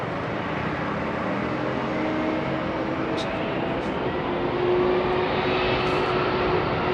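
A Cathay Cargo Boeing 747-8F freighter departing London Heathrow, its engines a constant broad rumble with a thin droning tone, steady and fairly distant, swelling slightly late on, with a few brief voice sounds over it.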